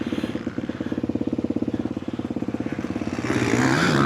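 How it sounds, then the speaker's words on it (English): A KTM 250 four-stroke motocross motorcycle idles close by with a rapid, even thumping pulse, then revs up louder toward the end. "This is my lad's KTM 250 4-stroke."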